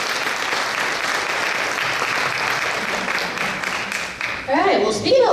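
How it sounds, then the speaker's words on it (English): A crowd at a Lao heritage night applauds steadily and fairly loudly for several seconds, the clapping fading as a voice begins speaking near the end. "Applause."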